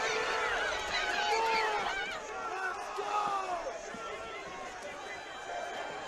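A fight crowd at a live combat-sports event shouting and cheering steadily throughout, a dense roar of many voices with scattered louder yells rising and falling in the arena.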